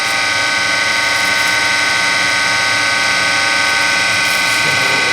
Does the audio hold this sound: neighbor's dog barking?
no